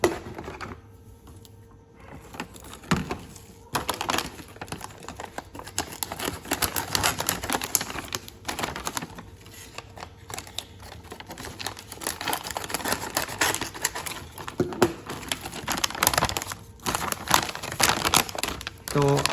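A Tapal Danedar tea packet is cut open in a run of crinkling, snipping and rustling plastic sounds, close and irregular.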